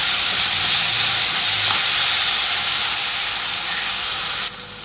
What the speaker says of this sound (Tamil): இப்போ இஞ்சி பூண்டோட பச்சை வாசனை போய் தக்காளி நல்லா வதங்கி வரட்டும்.